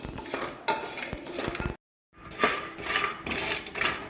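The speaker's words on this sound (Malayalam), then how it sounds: "കോക്കോകായ ഇങ്ങനെ ഓട്ടിൽ വറുക്കുക നല്ലോണം ഇതിങ്ങനെ പൊട്ടുന്നത് വരെ വറക്കണം" Cocoa pods roast in a pan while being stirred, giving repeated scraping and rustling strokes at close range. The stirring stops with a brief silence, then carries on.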